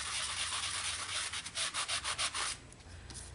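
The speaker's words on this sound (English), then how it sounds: "Again, I can sand the top," Sanding the raised high points of an embossed metal dog tag by hand, a steady abrasive rasp that breaks into quick rhythmic back-and-forth strokes in the middle before easing into quieter rubbing. Close up, no speech.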